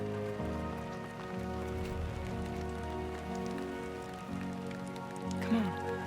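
Rain falls steadily in Death Stranding 2: On The Beach, an even, continuous patter with soft music tones layered underneath and a faint brief cue near the end.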